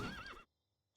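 A short, loud horse neigh from the Sekiro video game, a wavering whinny lasting under half a second, followed by silence and a brief sharp onset at the end.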